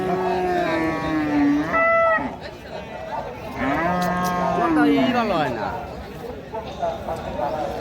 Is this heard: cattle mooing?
yes